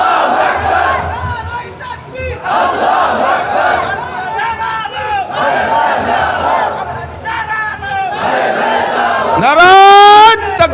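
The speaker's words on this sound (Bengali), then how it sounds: "কারা কারা একটু তাকবীর বলেন" A large crowd at an Islamic religious sermon chants the takbir in loud unison, answering a leading voice. The shouted responses come in repeated surging waves that stay loud throughout and swell into a rising roar at the end.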